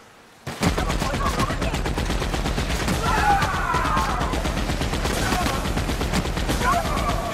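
Sustained rapid automatic gunfire from The Outer Worlds video game: a dense, unbroken stream of loud, close shots for about seven seconds after a brief quiet start, with faint voices underneath.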